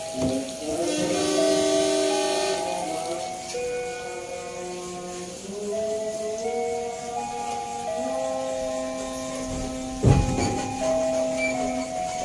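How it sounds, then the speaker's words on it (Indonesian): A local passenger train departing a station at night rumbles nearby with long, sliding metallic squeals and tones rising and falling, and a sharp clank near the end. "Kereta lokal Cibatuan berangkat Stasiun Maswati."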